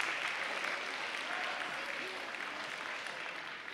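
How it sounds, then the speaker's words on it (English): Steady applause from a science show audience, a dense continuous patter of clapping throughout, moderately distant. "Bigger applause, people, bigger."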